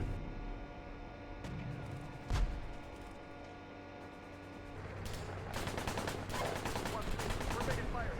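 Gunfire rattles in Steel Beasts Pro PE over a low armored-vehicle engine hum: an isolated heavy crack, then sustained rapid automatic bursts growing denser toward the end.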